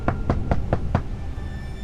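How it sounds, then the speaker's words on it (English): Five evenly spaced knocks on a door, fairly soft and close, followed by quiet room tone. "there was a knock at the door"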